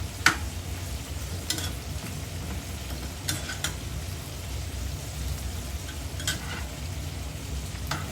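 Prawns frying in a pan, a quiet, even sizzle with several sharp scraping clicks of a spatula stirring them at irregular intervals, close-up and free of talk.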